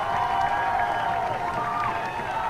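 Crowd noise at a high school football game, a steady wash of cheering and voices from a packed stand, sustained and fairly loud throughout with no clear break.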